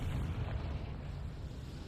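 A Confringo fire spell cast in Hogwarts Legacy bursts as a low, rumbling explosion that holds at steady loudness, with no talk over it.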